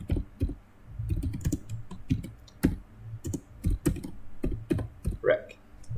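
A computer keyboard clatters as a chmod command is typed, with sharp irregular key clicks and quick bursts of keystrokes over a low hum.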